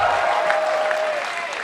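A large crowd at a PAX Prime esports event claps and cheers in a dense, steady wash of applause that carries on without pause.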